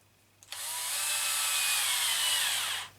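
A power tool drives shouldered-head screws with a screwdriver bit, a single steady high whirring burst of about two and a half seconds that starts and stops sharply, close and fairly loud.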